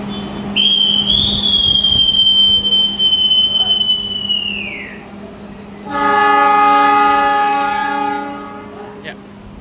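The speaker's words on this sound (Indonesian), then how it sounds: "kita mulai perjalanan kita bersama kereta ekonomi kerakyatan perjalanan perdana Jakarta" An economy-class passenger train departs Jakarta for Yogyakarta, sounding a long loud horn blast followed by a second tonal horn or whistle over rumbling rail noise, with a low steady hum beneath.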